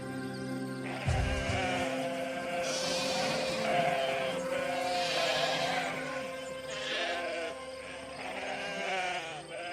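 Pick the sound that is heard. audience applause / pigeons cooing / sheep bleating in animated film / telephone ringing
sheep bleating in animated film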